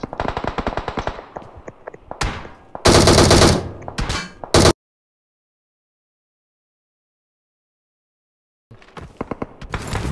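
Automatic gunfire in the battle royale video game Ring of Elysium, with several loud bursts of rapid machine-gun fire followed by a long silent gap, then more shots returning at the end.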